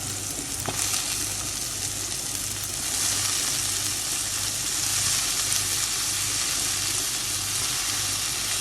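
Bitter gourd frying in a pan with onion and chili paste, a steady loud sizzle with a brief stirring scrape near the start and a low rhythmic hum underneath.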